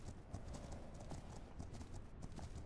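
Horse hooves clip-clopping steadily in a video game, a continuous even trot of light repeated hoofbeats over a soft background bed.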